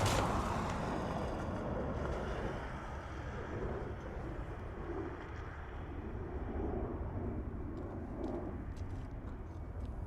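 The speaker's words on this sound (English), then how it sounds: "this is our brand new XLR coming in from Paris" Distant roar of an Airbus A321XLR airliner on arrival at Dublin Airport from Paris, a faint broadband rumble with wind noise, steady throughout.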